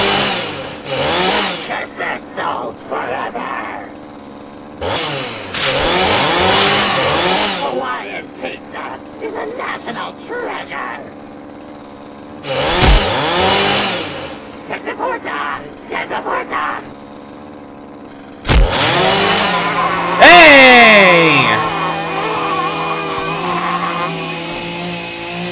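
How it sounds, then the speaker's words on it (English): A chainsaw in the video game Jazzpunk roars in repeated loud revving bursts, each rising and falling in pitch with short quieter gaps between, and ends in a longer sustained growl. "You do not mess with the chainsaw."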